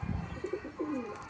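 An old domestic pigeon of about six years coos softly in a loft, a few low rounded notes heard close over faint background noise.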